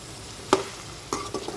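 Chicken fry cooks uncovered in a pan, a faint, quiet sizzle broken by a few sharp spoon scrapes and taps.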